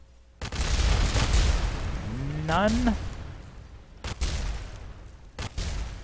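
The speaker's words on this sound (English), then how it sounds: "That was a nice explosion." A rocket crashes into the ground in Kerbal Space Program and blows up, a loud broadband explosion that rumbles and fades over several seconds, with a voice talking over it and a few later bursts of crackle.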